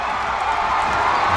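A large crowd roars and cheers without a break at a high school football game between Dutchtown High School and St. Amant, loud and continuous.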